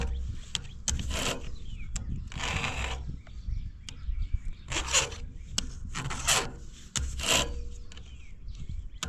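A flat file scrapes across a blade held in a vise, several loud rasping strokes in an uneven rhythm with short pauses between them.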